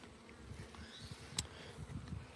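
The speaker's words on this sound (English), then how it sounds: "so I got these bees from the local beekeeper, like I was saying, and we originally started out with this Langstroth hive over here." Honeybees buzz around a Langstroth hive in a garden, a soft, steady hum with brief louder passes as individual bees fly close, heard alone without voices.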